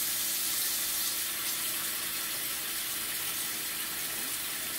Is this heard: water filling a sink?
yes